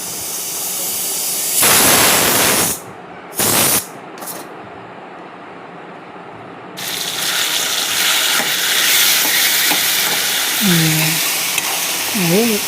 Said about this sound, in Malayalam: കടുക് പൊട്ടിച്ചിട്ട് ഉള്ളി മുറിച്ചിട്ട് മട്ടൻ ഫ്രൈയും എടുത്ത് അതിലിട്ട് വാട്ടിയാം